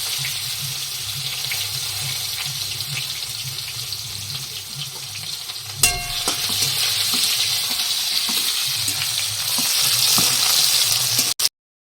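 Cumin seeds, a bay leaf, chopped onion and garlic frying in hot oil give a steady, loud sizzling hiss across the whole stretch, with a brief clatter near the middle.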